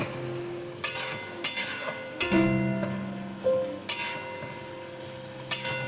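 Bombay duck fish going into a pan of spiced masala with Kashmiri red chilli, with a steady sizzle of frying broken by several sharp scraping clatters of a utensil against the pan.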